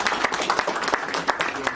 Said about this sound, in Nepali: हस्, हामी ताली बजाइदिन